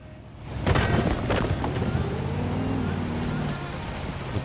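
A large car engine in the video game Forza Horizon 4, rear-wheel drive, revs and drones steadily after a rising start, loud and close, its low hum wavering slightly in pitch throughout.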